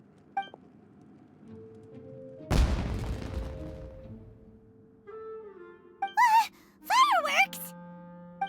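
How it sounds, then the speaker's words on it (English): In the Genshin Impact video game, a single loud firework burst booms and crackles away amid quiet game ambience, later followed by short character voice sounds. "Was that an explosion? It sounded like fireworks."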